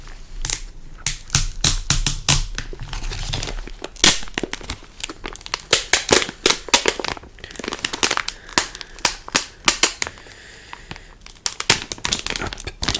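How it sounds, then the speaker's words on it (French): Wrapped Lorcana trading card booster packs are torn open and crinkled by hand, with loud, sharp bursts of crackling foil and tearing that come in quick irregular clusters close to the microphone and never stop for long. "ce qui nous intéresse aujourd'hui, ce sont les petits paquets de cartes qui sont emballés"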